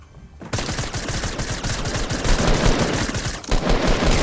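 Gunfire in Fortnite erupting after a brief quiet start into sustained rapid automatic fire, loud and close, with a short break before the shooting resumes.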